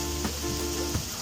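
Squash hits a hot frying pan and sizzles, a short, steady frying hiss with a couple of soft knocks, no voices heard.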